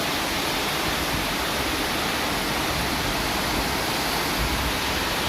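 Heavy rain lashes down in a strong windstorm in Pranburi, Prachuap Khiri Khan, a dense, unbroken roar of spray and gusts that stays loud and even throughout, with no voices.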